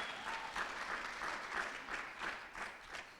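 A seated audience claps steadily at an event, the applause dense and even but quite faint and distant.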